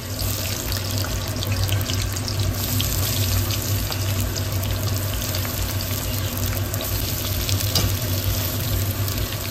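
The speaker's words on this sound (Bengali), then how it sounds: "তো এখন বেরেস্তার পেঁয়াজটা ভাজা হচ্ছে, এটা একটু গোল্ডেন ফ্রাই হবে।" Sliced onions frying in hot oil until golden for birista, the crisp fried onion topping for biryani, give a steady, dense sizzle that stays even and close throughout, with no voices.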